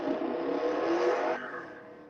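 A car engine revving nearby, a loud steady whirring roar that holds then drops in pitch and fades slightly toward the end, with no talking.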